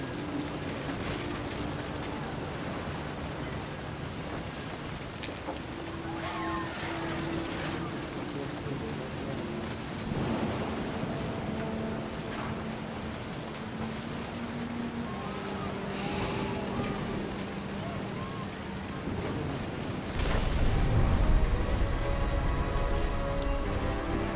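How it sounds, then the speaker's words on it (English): Steady rain and a rumble of thunder in the video game What Remains of Edith Finch, with continuous rainfall throughout and a louder, deeper swell near the end. "The thunder sounded much too close and full of angry power."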